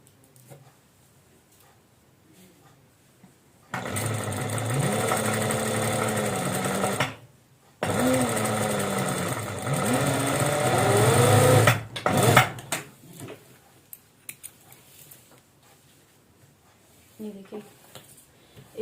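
A sewing machine stitches a maxi dress belt in two long, even runs of fast whirring separated by a brief stop, loud and close, with someone speaking quietly before and after.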